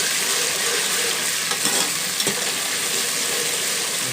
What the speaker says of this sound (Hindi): इस तरह अच्छे तरीके से इसको थोड़ा सा भून लेंगे तो ब्राउन हो जाए।